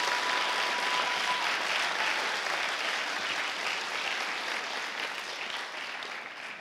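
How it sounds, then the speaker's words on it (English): Sustained applause from a large crowd, dense and steady throughout, slowly fading toward the end. "can we just give them a huge round of applause?"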